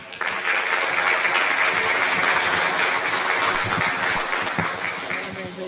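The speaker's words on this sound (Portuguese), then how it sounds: "uma salva de palmas a vocês" An audience applauds at a solemn session honoring the Maranhão Academy of Sciences' fifteenth anniversary, a full, sustained round of many hands clapping in a hall that swells quickly and holds steady before tapering slightly at the end.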